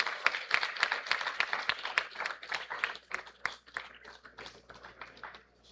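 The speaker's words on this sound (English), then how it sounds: "Can we please have a huge round of applause?" Applause from a modest student audience welcoming a guest speaker, individual claps distinct and fairly close, thinning and fading toward the end.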